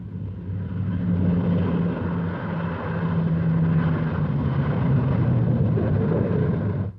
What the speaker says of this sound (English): The Super Fortresses return to their secret base after successful completion of their mission against Palembang.